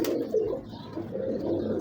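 A female black pigeon coos close by in low, throaty, rolling pulses that continue through the short stretch, with no talk over it.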